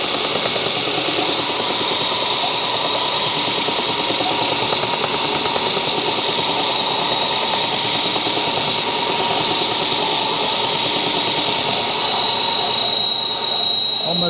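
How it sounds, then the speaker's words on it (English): A power sander grinds steadily across a wooden porch swing part, a continuous loud rasping hiss with a thin whine, running unbroken for the whole stretch. "you can use just a plain old sander, and we'll just bring it right down to the line"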